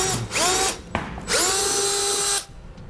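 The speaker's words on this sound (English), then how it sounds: "we'll drill a 5/16 hole on both sides of the license plate" A power drill bores a 5/16 inch hole beside the license plate of a 2012 Ford while fitting air helper springs: two loud, close bursts of whining motor with rising pitch, separated by a short pause.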